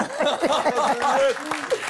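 A studio audience applauds a guest in a brief, dense patter of clapping, with voices and a bit of laughter mixed in.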